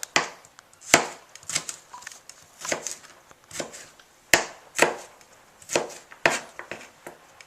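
A knife chops garlic on a cutting board in about a dozen crisp, close strikes, some in quick pairs, separated by short pauses.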